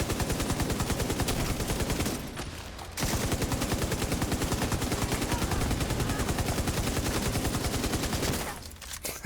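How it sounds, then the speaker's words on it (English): Sustained rapid automatic gunfire in a video game rattles on in long bursts with two short pauses, loud and steady and free of talk. "Shooting something over there."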